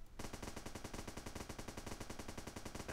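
Rapid automatic gunfire from the Starbound video game, a dense unbroken stream of shots at a steady fast rhythm, loud and continuous for the whole stretch with no talk over it.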